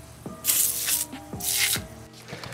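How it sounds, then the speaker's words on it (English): A can of foaming degreaser sprays onto a Yamaha Banshee frame in two long hissing bursts, with clicks and faint handling noises between them. "Now we'll use the foaming degreaser, get it inside all those spots where there's a lot of mud"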